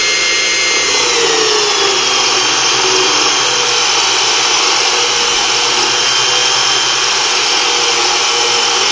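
A Unimat SL1000 mini lathe takes a heavy cut in 416 stainless steel, giving a steady, loud, continuous machining whine with a constant motor drone, close by and with no talk.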